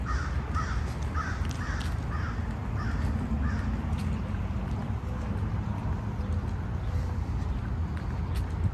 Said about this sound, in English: Those birds are angry.